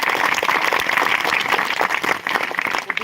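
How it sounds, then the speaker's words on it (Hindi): Loud applause from a crowd of villagers at a devotional Bhagavat Katha gathering, dense and sustained clapping throughout with no clear break. "गांव के लोग सभी लोग जोरदार तालियां"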